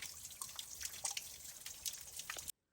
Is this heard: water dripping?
yes